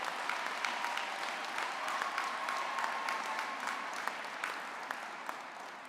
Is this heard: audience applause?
yes